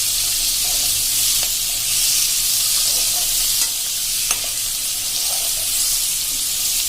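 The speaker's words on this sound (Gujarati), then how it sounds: "ગેસની ફ્લેમ મિત્રો આપણે અત્યારે મીડિયમ રાખી છે અને આ રીતે આપણે 1 જ મિનિટ હલાવી લેવાનો છે।" Chili and besan sambharo being stirred in a pan over a medium flame, a steady broadband sizzle with a few soft spoon scrapes against the pan, close and continuous, no voices.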